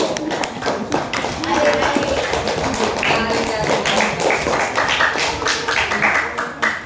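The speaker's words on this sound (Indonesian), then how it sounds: "Tepuk tangan dulu." Classroom of pupils clapping together to reward a group's correct answer, a steady dense patter of many hands lasting several seconds, with children's voices mixed in.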